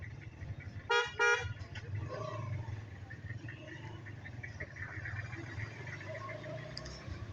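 On a mountain road trip from Neelum Valley toward Azad Kashmir, a car horn gives two quick, sharp honks close by over the steady drone of a moving vehicle's cabin.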